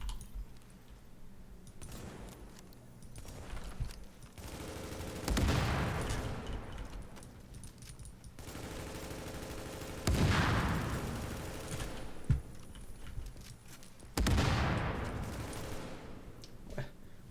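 Gunfire aimed at the player during a solo survival PvP match in The Division, several sharp loud bursts spaced a few seconds apart over a rumbling ambient bed.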